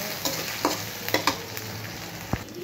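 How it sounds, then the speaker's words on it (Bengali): Onions frying in a pan, a soft steady sizzle broken by a few sharp scraping stirs from a spoon, close and moderately loud with no voices. "আমার পেঁয়াজগুলো ভাজা হয়ে গেছে"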